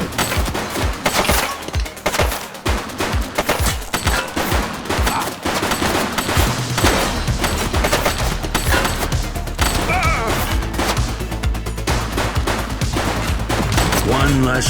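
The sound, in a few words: gunfire from an enemy shooting, from the video game The Precinct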